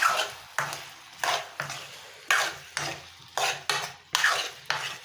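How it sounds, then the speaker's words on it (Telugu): Fried chicken pieces are stirred through Manchurian sauce in a pan with roughly eight rhythmic, close scraping strokes, each a short swish that fades before the next, over a faint sizzle and with no voices. "ముందుగా ఫ్రై చేసుకున్న చికెన్ ముక్కల్ని వేసుకొని ఇలా బాగా కలుపుకోవాలి"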